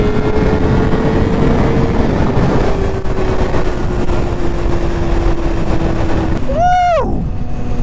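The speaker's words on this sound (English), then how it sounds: "Definitely no problem picking up speed in 6th gear." A Honda CBR 600RR runs at high speed in sixth gear, its steady engine drone buried under loud, constant wind roar, with a sharp rising-then-falling whine near the end.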